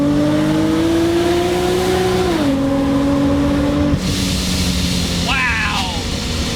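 Supercharged Infiniti G37 revving and accelerating, a rising engine drone that shifts pitch as gears change, joined by a thin whine sweeping upward near the end, loud and close with no talk.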